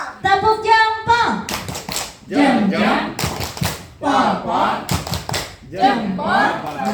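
A group of adults does the 'tepuk jempol' clapping routine, crisp clusters of claps and slaps interleaved with unison chanting, loud and near, the claps coming in short rhythmic bursts between the voices.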